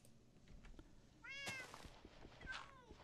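Cats meow in a Minecraft modpack game, two or three distinct meows over faint background game noise, fairly near and clear, with no talking.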